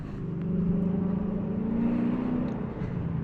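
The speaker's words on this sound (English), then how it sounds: "Somebody's got a nice sounding car." A Ford Mustang drives past on a road in Lewiston, Maine, its deep engine rumble swelling and holding steady at close range for a few seconds before easing slightly.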